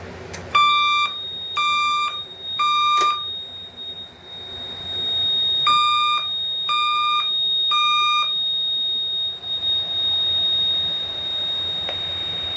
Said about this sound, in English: The signal you have just heard indicates a report of a fire in this building